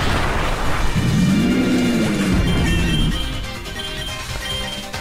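A crashing, rumbling impact effect for the Pokémon move Avalanche in a Pokémon video game, a loud sustained smash with a rising-and-falling tonal sweep lasting about two seconds, then fading into quieter background game sound.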